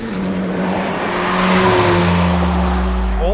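Hot hatch cars (2017 Honda Civic Type R, Ford Focus RS, Volkswagen Golf R, 6-speed manuals) accelerating at a drag strip, a loud close engine drone rising in pitch through the revs with steady roaring exhaust.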